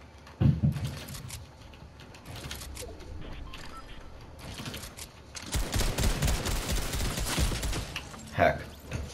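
Gunfire in Fortnite Battle Royale: scattered shots early on, then a dense, loud burst of rapid automatic fire midway through, with keyboard clicks and a voice talking over parts of it.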